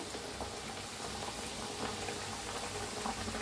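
Pumpkin fritters frying in hot oil, a steady dense bubbling sizzle that holds evenly from start to finish, close and fairly loud, with no talk.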